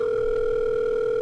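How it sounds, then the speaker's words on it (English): A telephone line rings in the horror visual novel game The Letter, a steady unbroken electronic tone held loud and close, with nothing else heard. "the line finally rings."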